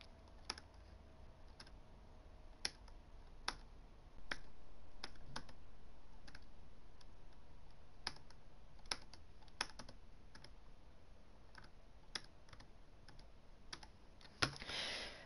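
Quiet, close clicks of typing on a computer keyboard in irregular bursts of separate keystrokes over a low background hum, with one sharper louder clack near the end.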